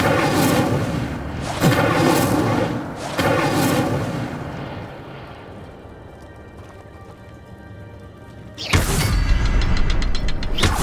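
A fiery Incendio spell cast in Hogwarts Legacy bursts out in loud whooshing, booming blasts, a few strong ones early, then a quieter tonal stretch and another sudden burst near the end, with game music underneath.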